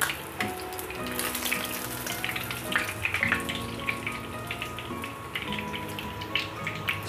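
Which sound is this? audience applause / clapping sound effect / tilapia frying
tilapia frying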